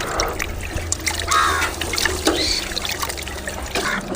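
Tamarind being squeezed and dissolved in warm water by hand for dal rasam, giving soft wet squelching and trickling, close and fairly faint, with distant birds calling and no speech.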